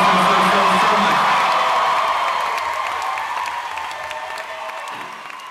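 Concert audience applause at a 2014 Chicago show, a broad sustained roar of clapping with scattered whoops that fills the room and slowly fades over several seconds.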